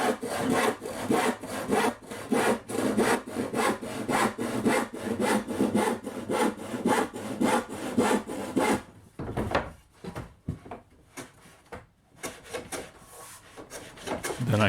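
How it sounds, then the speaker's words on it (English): A hand saw cuts wooden stock to length in steady, rhythmic rasping strokes, close and loud, with the strokes turning slower and more broken toward the end. "and then carefully sawing it."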